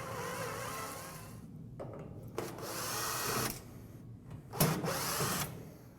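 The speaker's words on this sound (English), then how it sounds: "Remove the last of the screws along the front" A power tool unscrews screws from the front panel of a Moffat Turbofan oven, whirring in several short bursts. Each burst is separated by brief pauses, close and moderately loud.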